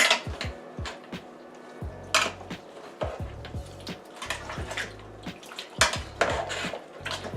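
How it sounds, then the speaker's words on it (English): Veal stew ingredients are mixed in a metal pot, with a ladle knocking and scraping against the sides in irregular clanks and rattling bursts, close and clear with no talking. "Now we want to mix this up."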